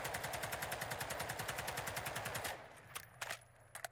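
Rapid automatic gunfire in Modern Warfare 2 with a steady fast burst for about two and a half seconds, then stops, leaving a few scattered quieter shots and clatter.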